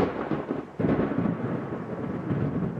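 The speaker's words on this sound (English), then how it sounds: "There were violent thunderstorms." Deep, sustained thunder rolls through a violent thunderstorm, with a swelling surge partway through and a broad, continuous low rumble that stays loud throughout, no voices present.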